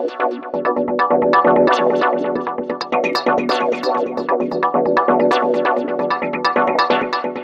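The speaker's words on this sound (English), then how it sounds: "Then we have these sampled chords" Rhythmic sampled chord stabs in 90s Detroit minimal techno style repeat rapidly in a dense, pulsing pattern, loud and up front with a busy, shimmering top end.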